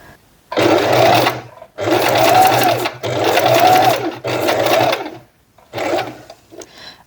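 A sewing machine stitches black thread into a canvas tote strap in four loud, close bursts of rapid whirring, separated by brief pauses, ending with a shorter burst.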